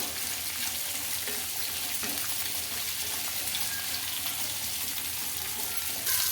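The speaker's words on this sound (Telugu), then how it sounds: "ఈ ఆనియన్స్ కొద్దిగా మగ్గాలండి మనకు ఆయిల్లో" Sliced onions fry in hot oil for an egg and paneer curry, giving a steady, soft sizzle that holds evenly throughout with no talking.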